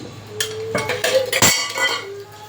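Cinnamon, garlic and ginger being pounded in a stone mortar, with several heavy, close thuds and clanks in an uneven rhythm and a faint rattle between the strikes.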